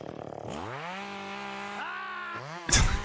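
A chainsaw revs and idles during yard work, its engine pitch climbing and settling in sweeping harmonic bands before a sharp, loud burst near the end; close and alone, no talking.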